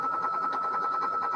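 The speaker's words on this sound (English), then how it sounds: "I have no mercy on my sewing machine. I just make it do its thing." A sewing machine stitches an embroidery block at a fast, even rhythm, pushed hard. A steady mechanical whir with a pitched tone runs through the brief stretch at moderate loudness, with no talk.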